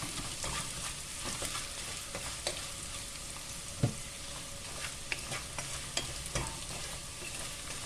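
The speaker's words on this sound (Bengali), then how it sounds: "আমি শুটকিটা ভাজতেছি" Dried fish (shutki) frying in a pan with salt and garlic, a continuous low sizzle with scattered small pops and faint scraping of a spatula.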